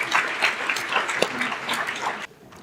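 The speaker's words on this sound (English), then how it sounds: "give a warm applause to our panel" At a global health symposium, the audience applauds the panel with brisk, even clapping from a fairly close room crowd that cuts off sharply after a couple of seconds.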